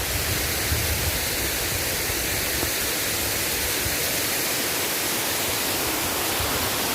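Kakapian Falls rushes in a steady, loud, broadband roar of falling water that holds unbroken throughout, with no voices over it.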